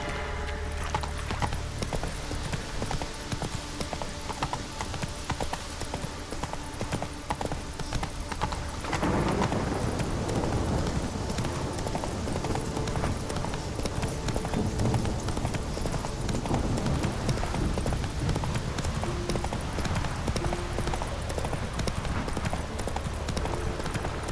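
Roach, the horse in The Witcher 3: Wild Hunt, gallops with steady, rapid clip-clop hoofbeats over the whole stretch, carrying on at an even pace beneath layered game ambience and music.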